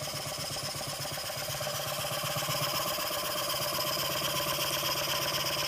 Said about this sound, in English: It's a very powerful engine, very fast. You see it's kind of rattling the table a bit.